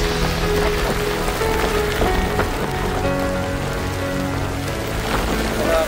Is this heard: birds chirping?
no